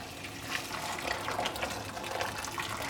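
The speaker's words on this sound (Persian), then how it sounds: "آب رو هم من از قبل گرم کردم، اضافه میکنم." Pre-heated water poured from a container over beans in a cooking pot, a steady splashing, gurgling pour running continuously at close range with no talk.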